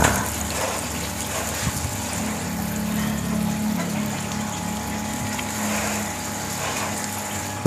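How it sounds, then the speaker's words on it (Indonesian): Water pours and gushes steadily onto a potted aglaonema plant, a continuous splashing flow with a faint low hum underneath, no talking. "Kita siram dulu."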